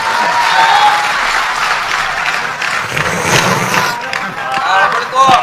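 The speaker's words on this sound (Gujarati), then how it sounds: "દાદાને જોરદાર તાળીઓના નાદ સાથે વધાવો." Loud applause from a live audience at a Gujarati folk comedy show, a full, close wash of clapping that swells and holds for several seconds with a few crowd noises mixed in.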